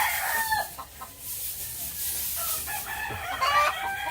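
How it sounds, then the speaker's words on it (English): Several roosters crow loudly at a home in the Philippines, overlapping calls with some clucking, fairly close and continuous. "You hear all those roosters crowing?"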